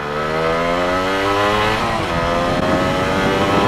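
A Yamaha two-stroke motorcycle engine revs hard and loud, its pitch climbing steadily, dipping briefly near the middle, then rising again. It sounds close and runs continuously with no talk over it.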